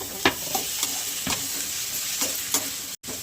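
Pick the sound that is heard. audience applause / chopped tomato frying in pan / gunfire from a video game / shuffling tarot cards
chopped tomato frying in pan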